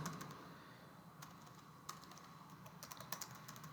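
Someone types on a computer keyboard while writing a simple YAML playbook in a terminal editor. The key clicks are soft and irregular, with a few sharper taps over faint background hiss.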